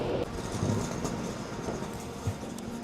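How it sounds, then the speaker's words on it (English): Train at a station platform, a steady rumble and rolling rattle of wheels with light clanks, close and fairly loud, with no talking over it. "Here's the train right now, right at the end of the platforms"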